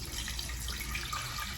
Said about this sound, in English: I'm gonna pour it into my saucepan